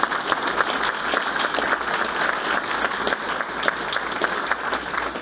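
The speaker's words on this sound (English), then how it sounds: "Round of applause, please, for them." Audience applause at a board of education meeting honoring student athletes, steady mid-level clapping from a room full of people lasting several seconds.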